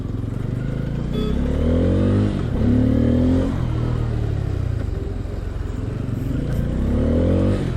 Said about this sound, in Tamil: பல்சர்ஸில் நம்ம ஏர் ஃபில்டர் ரிமூவ் பண்ணிவிட்டு ஒரு சவுண்டு வரும் பார்த்தீங்களா, அந்த சவுண்டு வருது இதில்